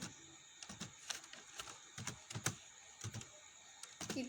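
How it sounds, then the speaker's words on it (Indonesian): A mkdir command being typed on a computer keyboard: quiet, close keystrokes in uneven bursts, with short pauses between groups of clicks. "Kita ketikkan dengan perintah mkdir, lalu kita ketikkan mkdir spasi, kita ketikkan nama kita"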